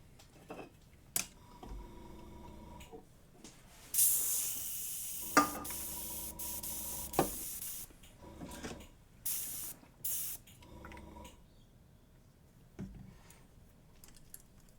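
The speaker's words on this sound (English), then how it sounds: "Alright, I think I'm going to do some airbrushing." Short bursts of airbrush spraying while painting a Flower Knight miniature bust, each spray a soft hiss lasting a second or two, separated by pauses and a few faint clicks in a quiet room.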